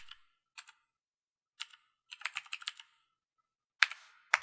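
Quiet clicks of a computer keyboard as Python code is typed, coming in short scattered bursts with a quicker flurry of keystrokes in the middle and a few sharper taps near the end.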